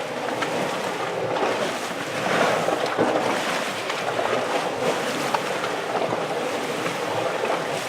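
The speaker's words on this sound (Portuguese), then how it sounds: "Nós ouvimos o vulcão porque ouvimos a água borbulhar." Volcanic hot springs at Furnas in the Azores, with water bubbling and churning in a steady, dense wash of noise across the whole stretch, fairly loud and continuous, with wind buffeting the microphone.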